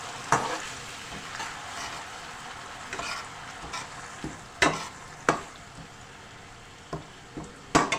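Finely chopped onion frying on a slow flame, a soft steady sizzle punctuated by several sharp spatula scrapes and knocks against the pan, heard up close.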